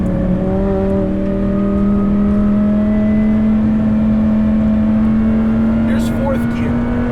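A supercharged 870 HP Lamborghini Huracan Performante pulls hard on the NASCAR Roval track, a loud steady engine drone with a slowly rising pitch, sustained and close throughout.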